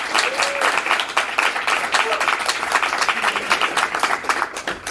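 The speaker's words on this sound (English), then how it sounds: "So she really deserves our applause." Audience applause at a university poetry reading, dense steady clapping from a crowd that fills the room for several seconds, with faint voices mixed in.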